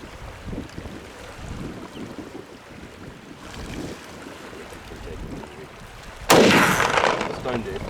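A rifle shot fired at a hippo on Lake Kariba, Zimbabwe: one sudden loud blast near the end, ringing out over steady wind and boat-engine rumble.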